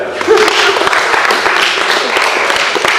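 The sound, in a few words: audience clapping at a seminar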